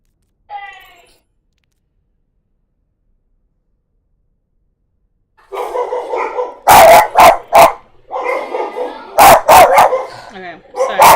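Dogs bark at home, a short yelp first, then after a silent gap a run of loud, close barks and yips in irregular bursts.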